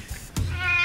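A pet cat named Cricket meows once, a short close call with a sharp start, following a brief faint earlier sound and trailing into quiet room tone.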